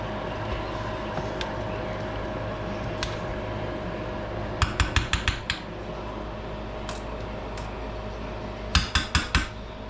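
Metal cooking pot lid set back on a pot of oxtails and rice, two quick clusters of clattering, rattling metallic taps over a low steady hum of the kitchen.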